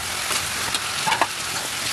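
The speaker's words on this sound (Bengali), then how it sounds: "কিছুক্ষণ কষানোর পর এর মধ্যে মাথাগুলো দিয়ে দিচ্ছি" Fried fish heads hiss and sizzle as they go into spiced masala in a hot wok for a fish-head moong dal. A loud, steady frying crackle runs throughout, with a few sharper stirring pops close by.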